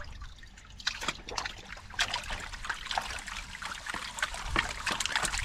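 Water swishes and trickles irregularly as a gold pan is swirled, washing sediment heavy with iron and black sand; close, steady sloshing with small splashes and no talk.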